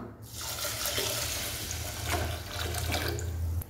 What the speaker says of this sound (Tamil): ஸோ 1:2 ரேஷியோவில் 3 கப் அளவு தண்ணி சேர்த்துக்கலாம்